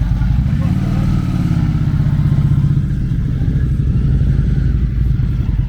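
A vintage Indian V2 motorcycle engine idling loudly up close, a deep steady thumping rumble, with a voice talking over it.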